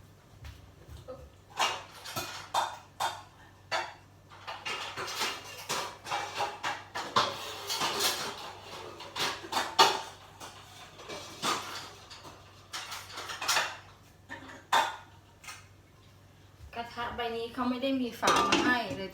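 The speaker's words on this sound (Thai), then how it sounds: "ต้องใช้ฝาของกระทะใบอื่นเลยต้องเลือกนะคะ ก็ปิดฝาเพื่อให้ เดือดค่ะ" Metal pots, pans and a lid clatter and clank in repeated bursts as a lid is put on a pan to bring it to a boil, with someone speaking Thai at moments between the clangs.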